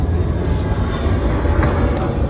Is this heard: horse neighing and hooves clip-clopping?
no